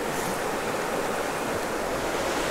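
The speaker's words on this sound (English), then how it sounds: "This creek is just an absolute beauty. Spring fed, cold water." Cold spring-fed creek with wild trout, a steady broadband rush of flowing water, constant and fairly near with no other sounds.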